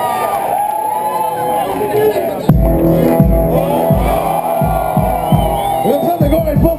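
Crowd at a hip hop festival cheering and clapping, a loud swell breaking in partway through and continuing under a rhythmic, booming background.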